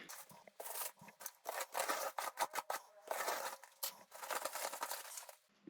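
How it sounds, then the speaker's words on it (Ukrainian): Close-up rustling and crinkling of plastic wrap and tape being cut and pulled apart in quick bursts while unpacking a parcel, with brief pauses between. "Зараз розпакуємо, подивимося, що до нас приїхало."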